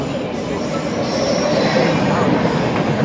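A Kalyan-bound suburban train at Thane rumbles loudly and continuously nearby, wheels squealing against the rails as it rolls into the station.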